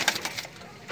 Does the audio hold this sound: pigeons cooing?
yes